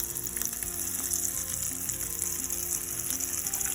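Chicken pieces fry on a stovetop in a frying pan, a steady close hiss and crackle of sizzling oil with small pops and no talking.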